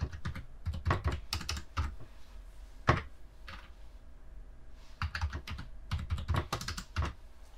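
A computer keyboard clatters as a new password is entered during a beginner computing lesson, with irregular clusters of quick key taps separated by short pauses, fairly close and moderately loud.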